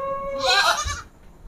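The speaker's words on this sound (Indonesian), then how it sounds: "Kambing-kambing istimewa sudah terkumpul dan mau dipotong di hari raya Idul Adha." Male goats penned at a livestock market ahead of Eid al-Adha give a single close, loud, wavering bleat, followed by a brief low thump and quiet background.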